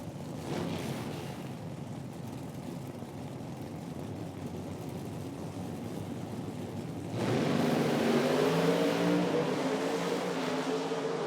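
Mountain Motor Pro Stock drag cars race at an IHRA event in Milan, Michigan, a steady loud engine roar swelling sharply about two-thirds through as the cars launch and accelerate away, with no talk.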